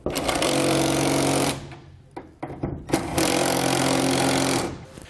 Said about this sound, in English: We can then go back and tighten our bolts down.